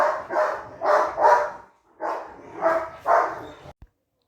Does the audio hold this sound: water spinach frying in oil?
no